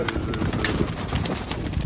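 Mykolaiv crested pigeons taking flight with a rapid, continuous flutter and clatter of wingbeats, close and fairly loud, mixed with faint bird sounds and no clear speech.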